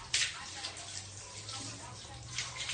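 Tap water running steadily into metal vessels placed beneath it indoors, a continuous splashing rush with brief brighter bursts, and a voice speaking over it.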